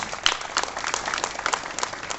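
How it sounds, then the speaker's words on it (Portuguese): A church congregation applauds at a Sunday morning service, a short burst of dense, moderately loud clapping that holds steady from start to finish with no voices over it. "Você pode, por gentileza, aplaudir bem forte o nome do nosso Deus."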